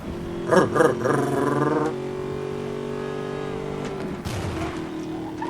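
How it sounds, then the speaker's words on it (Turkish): A steady, droning race car engine in the video game Need for Speed: Most Wanted hums at a constant pitch, with a few louder revving bursts early on and a shift in tone near the end. "Arabada ne kadar güzel bir ses var be."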